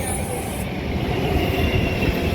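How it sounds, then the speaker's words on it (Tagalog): An Airport Express train passes at Sunny Bay in Hong Kong, a loud close rumbling roar of wheels on rail with a faint high squeal, steady throughout, no talking. "May train guys. Airport Express."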